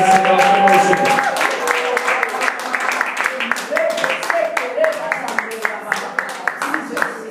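A church congregation claps in rhythmic, steady applause beneath loud chanting voices, the claps sharp and regular across the whole stretch.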